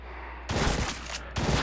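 Gunfire in the top-down shooter Crimsonland comes in two loud, dense bursts of rapid automatic shots, the first longer than the second, over a low steady game hum.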